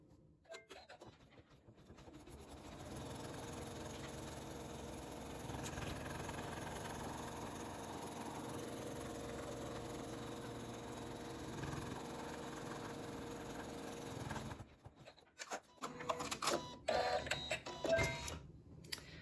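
An embroidery machine stitches the outline of a quilted tote block on fabric using water-soluble thread, a steady mechanical whirring and rapid needle chatter that runs continuously for most of the stretch, then stops and gives way to scattered handling clatter.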